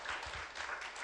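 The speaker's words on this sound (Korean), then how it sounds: "목사님께 감사의 박수를 한번 올려드리겠습니다" A church congregation at a Friday service applauds the pastor in a brief, dense, fairly distant round of clapping.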